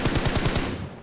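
Rapid machine gun fire in the PUBG Mobile video game, a loud, steady burst of evenly spaced shots that carries through the whole second before easing off at the end.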